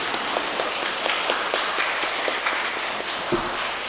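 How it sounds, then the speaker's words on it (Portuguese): Audience at a Father's Day morning lecture giving a round of applause, a steady, even spatter of many hands clapping with distinct sharp claps standing out, lasting about four seconds. "E uma salva de palmas"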